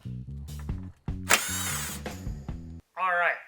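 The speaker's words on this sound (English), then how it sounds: "remove these couple of small 10 millimeter bolts that are on the bottom of the bumper here" A power tool whirs in short bursts while backing out small 10 millimeter bolts from underneath a truck bumper, close and loud, with a higher-pitched spin-up and ratcheting stutters between pulses.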